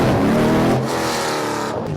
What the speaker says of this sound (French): C'est la voiture la plus folle de 2023 en termes de son.